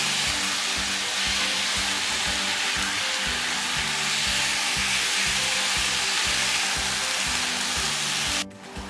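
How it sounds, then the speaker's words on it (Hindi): Chicken sizzles steadily in an oil-filled pan, a loud continuous frying hiss that runs unbroken and alone before cutting off sharply near the end. "और अब इसमें चिकन शामिल कर देते हैं। इसको थोड़ा सा भूनने के बाद फिर बाकी चीज़ें इसमें शामिल कर देंगे।"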